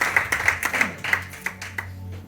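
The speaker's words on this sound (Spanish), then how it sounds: "No le das un aplauso al Señor." A church congregation claps in a loose, sparse rhythm, a handful of distinct near hand claps spaced unevenly and fading toward the end.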